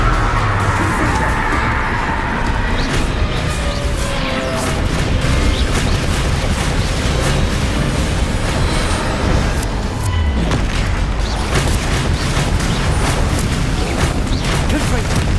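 Repeated Confringo blasting-spell explosions in Hogwarts Legacy rumble and crackle densely throughout, layered with other spell effects and booms in a busy, continuous combat soundscape.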